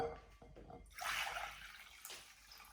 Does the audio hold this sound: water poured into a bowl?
yes